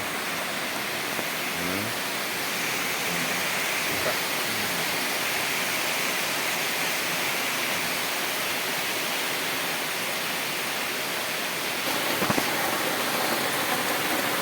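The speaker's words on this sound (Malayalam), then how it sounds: "മഴയെല്ലാം തുടങ്ങിയതാണ് നല്ല കാറ്റാണ് നല്ല കാറ്റാണ്" Steady, heavy rain roars without pause in strong wind, a dense wash of noise that stays constant throughout with no voices.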